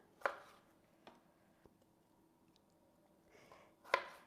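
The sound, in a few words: chopping frozen cherries with a knife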